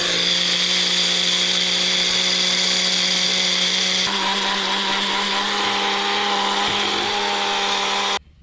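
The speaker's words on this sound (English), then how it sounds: "I have my grinder right here, my food processor. Just let's grind up the toasted rice." A food processor grinds toasted rice into powder with a loud, steady high-pitched motor whine and rattle, running continuously for about eight seconds before cutting off abruptly at the end.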